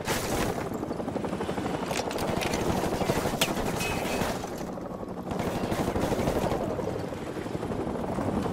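Helicopter rotor drone mixed with sustained gunfire fills a combat scene in Call of Duty Modern Warfare Remastered on PS4, dense and continuous with bursts of rapid shots throughout.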